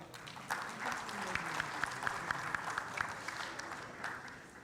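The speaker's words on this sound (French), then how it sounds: "Sous vos applaudissements." An audience applauds at a cooperation agreement signing ceremony on a panel stage, with moderate, even clapping sustained throughout and a few sharper individual claps standing out.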